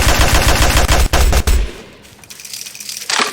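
Loud rapid automatic gunfire in the video game Garry's Mod, a dense burst of shots for over a second, then a short pause and quieter mechanical clicks before firing resumes at the end.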